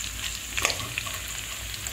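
Potatoes fry in a pan with a steady close sizzle, a few small pops and crackles, and a faint scrape of stirring. No one speaks.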